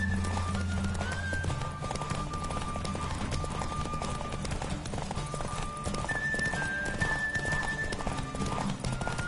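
A horse gallops in a race in The Witcher video game, with a rapid steady clip-clop of hooves and rushing motion under a background music score.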